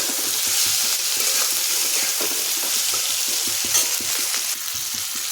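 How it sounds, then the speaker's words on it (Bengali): Ginger, green chilli and cumin powder fry over a low gas flame for greens, making a continuous hiss with a quick, regular run of spoon-against-pan stirring taps up close. "এখন আদা কাঁচা লঙ্কা জিরে গুঁড়ো দিয়ে আরও এক মিনিট মতো ভেজে নেব"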